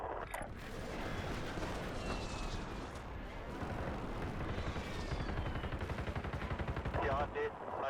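Precision airstrike explosions boom in Call of Duty: Warzone Resurgence, a dense, continuous barrage of rumbling blasts and rapid gunfire-like cracks, loud and layered with in-game battle noise.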